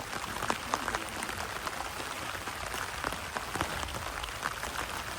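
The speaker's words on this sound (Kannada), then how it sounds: "ಮಳೆ ಹೆವಿ ಹೊಡಿತಾ ಇದೆ" Heavy monsoon rain beats on a camping tent at night, a dense, continuous patter of drops close by with no voices, filling the whole stretch evenly.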